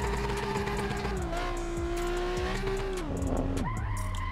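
A Nissan 350Z drifts in Assetto Corsa, its engine droning steadily as the tires squeal loudly and continuously, pitch shifting as the car slides and revs, with no voices.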